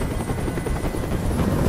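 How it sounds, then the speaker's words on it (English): A helicopter in the video game Detroit: Become Human, its rotor thudding loud and steady in a rapid chopping pulse as it hovers close overhead. "you tell that helicopter to get out of here"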